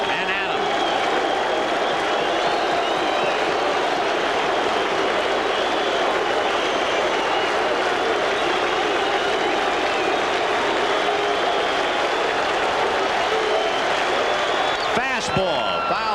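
A baseball crowd at the 1986 World Series Game 5 between the Red Sox and the Angels keeps up a dense, steady roar of cheering and noise for the whole stretch, with a commentator talking over it.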